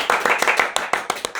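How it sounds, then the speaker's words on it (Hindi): A few people at home clap in a quick, uneven burst of sharp hand claps, about ten in a row, during an iPhone 12 unboxing. The claps are close and loud. "रुको ताली बजाने दो।"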